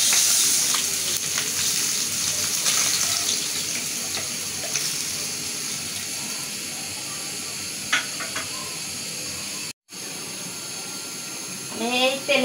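Fish sizzles steadily while frying in hot oil until reddish-brown, a continuous loud crackling hiss running throughout with a brief gap near the end.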